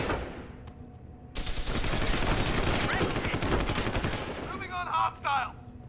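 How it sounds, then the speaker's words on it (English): Machine pistol fire in Deus Ex: Human Revolution, a long, loud run of rapid automatic shots that starts abruptly, holds dense and steady for about three seconds, then gives way to a few brief bursts and short electronic sounds. "the machine pistol's better than I thought"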